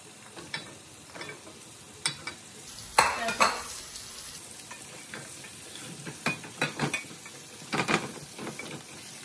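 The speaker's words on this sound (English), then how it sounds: "Now I'm going to put my butternut squash in as well." Butternut squash tipped into a frying pan with turmeric and chili, then stirred: a loud clatter and sizzle burst early on, followed by scattered scraping stirs and crackling fry, close and without talk.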